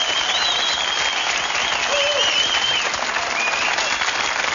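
A television studio audience on a Catalan TV3 evening programme claps in a thick, even wash of applause, with faint high tonal whistles or cheers rising briefly above it throughout.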